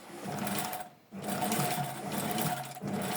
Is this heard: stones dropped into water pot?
no